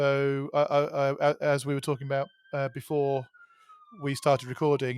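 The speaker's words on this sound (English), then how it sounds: "Sorry about the sirens outside" Someone talks in the foreground while a faint siren wails in the distance, its pitch sliding slowly downward.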